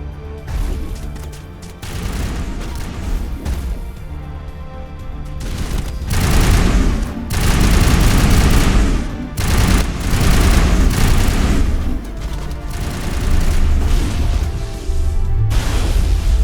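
Rifle gunfire in the video game Mass Effect on Virmire: dense, loud bursts of shooting mixed with crashes and booms, continuing in sustained volleys with brief pauses throughout.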